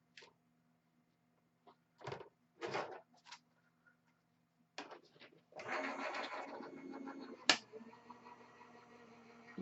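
An electronic die cutting machine runs while cutting shaped card dies into craft material, a steady mechanical hum with faint popping and one sharp crack near the end, after a few scattered handling noises.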